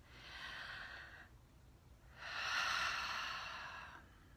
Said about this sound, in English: take 10 big deep breaths in